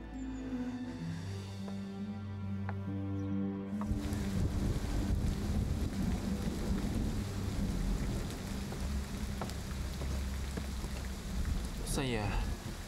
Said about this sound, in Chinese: 山区的雨季又来了，这雨一下就停不下来